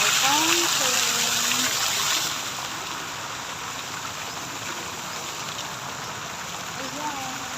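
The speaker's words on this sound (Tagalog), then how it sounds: "Ayan, may fountain." Outdoor water fountain splashing, a steady broadband rush of falling water that is louder at first and then settles to a constant, slightly softer gush, with faint voices in the background.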